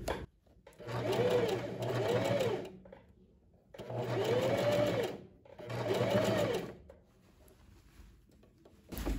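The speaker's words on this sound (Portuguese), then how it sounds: "E segue fazendo uma costura dentro das costuras paralelas que você fez para franzir o alto da cabeça da manga." A sewing machine stitches the gathered sleeve cap of a long puffed sleeve with cuffs, running in three steady motor bursts with short pauses between them, close and alone.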